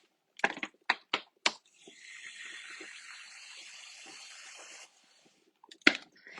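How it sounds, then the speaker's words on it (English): A wet clay pot trimmed with a trimming tool: a few sharp taps and scrapes, then a sustained close, gritty scraping hiss for a couple of seconds before it stops, followed by more light knocks. "trimming with the trimming tool."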